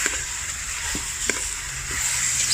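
Beef and shallots stir-frying in a pan for a Northern Thai curry, giving a steady broad sizzle with a few scraping stir strokes and the odd louder clack, close and continuous with no talk.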